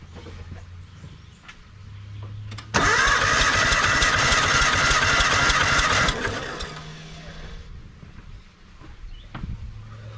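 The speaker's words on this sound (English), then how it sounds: "Okay, so we've got 120 again." A Suzuki Sierra SJ50 engine cranks over on the starter during a compression test, a loud rhythmic churning burst lasting about three seconds amid quieter workshop sounds.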